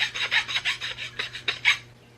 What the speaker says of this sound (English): just a little bit of filing to get that cleaned up and smoothed back out again